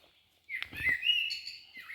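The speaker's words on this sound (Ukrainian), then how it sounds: "пташка виспівує над нами." A small bird sings overhead in a forest during mushroom picking, a bright, clear run of chirps and warbling whistles lasting a couple of seconds, close and alone with no talk.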